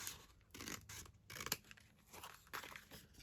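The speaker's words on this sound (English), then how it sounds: "Just snip that down." Scissors snip through paper while trimming pieces for a junk journal, several quick crisp cuts with soft paper crinkling in between, close and fairly quiet.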